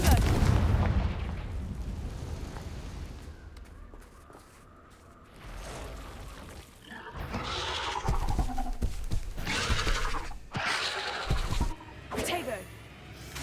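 Confringo blasting spells go off in the Hogwarts Legacy game inside an Acromantula cave, a series of sharp booming explosions in the second half, with spoken words earlier in the clip.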